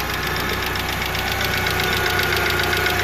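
A 1995 Mitsubishi Eclipse GST engine idles with a fast, even ticking from the hydraulic lifters (lash adjusters), heard close up over a steady mechanical hum.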